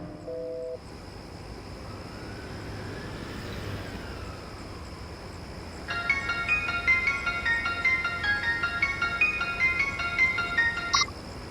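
A mobile phone rings with a bright, melodic electronic tune lasting several seconds, following a quiet stretch of faint street ambience.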